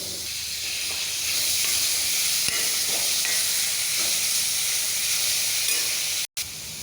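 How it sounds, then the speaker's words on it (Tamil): Steady, dense sizzling of ground onion paste frying in a hot pan for chicken curry, constant hiss throughout with a brief cut near the end. "அரைச்ச வெங்காய பேஸ்ட்டை பச்சை வாசம் போக வதக்கணும்"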